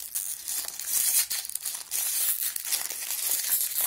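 A thin plastic packet of miniature pasta crinkles and tears as it is pulled open by hand, steady close crackling with sharper rips and no talking.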